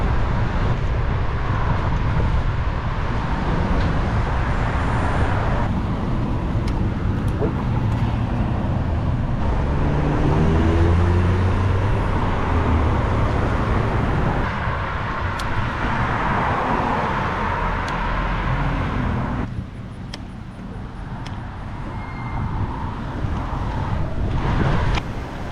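City street traffic surrounds a moving bicycle, with cars and buses passing in a dense, continuous roar heavily mixed with microphone wind buffeting; the noise dips briefly during a lull near the end before building again.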